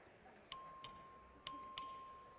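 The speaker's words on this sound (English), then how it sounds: "The clerk will ring the bell." Inside the Texas House chamber, the vote bell sounds four bright, clear dings in two pairs, each with a short ringing decay, over quiet room ambience.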